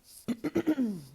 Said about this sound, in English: I guess it's coughing.